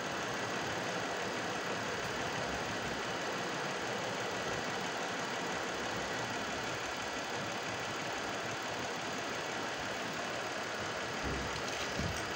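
A hydrogen-fuelled engine idles steadily and evenly nearby, a constant mechanical hum with a faint knocking texture, no voices.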